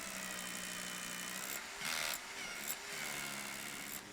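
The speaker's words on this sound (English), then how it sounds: "4 holes are made in the roof with a hammer drill" A hammer drill bores holes in a roof, a steady droning whir with brief louder bursts as the bit bites, close and continuous.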